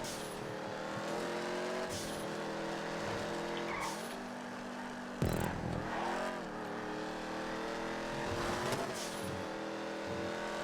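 A race car's engine drones steadily through a lap of a city circuit in GTA 5, with gear shifts, tire squeal and occasional skids and thumps breaking the continuous close engine tone.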